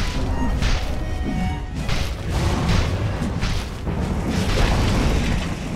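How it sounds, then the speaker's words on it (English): Dire's top tower collapses in Dota 2 amid battle noise, a dense run of loud crashing booms and smashing hits that rise and fall in waves over several seconds. "Dire's top tower is falling."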